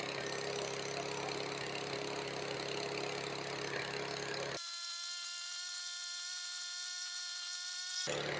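A lawnmower engine runs with the choke on, a steady mid-pitched mechanical drone that continues throughout at moderate level, its tone sharply changing partway through.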